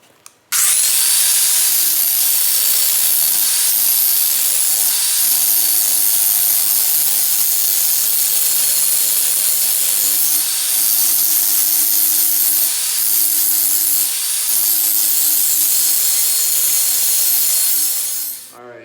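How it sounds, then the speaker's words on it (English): An angle grinder cleans up metal on a Chevy K20 squarebody bumper build, giving a loud, steady, close grinding whine that runs unbroken for about seventeen seconds with only slight dips in intensity. "Clean up this area here with the grinder, get a good angle on it"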